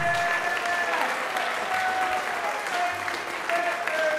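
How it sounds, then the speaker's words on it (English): A school audience at a spring awards program applauds a record-breaking 4x800 relay team, dense, steady clapping filling the hall for the whole stretch, with a faint tonal ring from the sound system underneath. "So if you can give them a round of applause."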